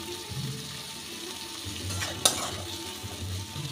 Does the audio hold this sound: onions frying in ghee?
yes